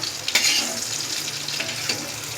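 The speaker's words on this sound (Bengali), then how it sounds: "মাছের তেলেই বেগুনটা হালকা করে এই ভেজে তুলে নিলাম" Eggplant frying lightly in oil left over from frying fish, a steady close sizzle with a sharp spattering burst early on and faint utensil clinks, no talking.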